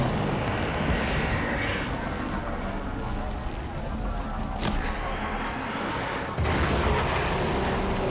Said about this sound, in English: There should be useful detritus falling from the explosion.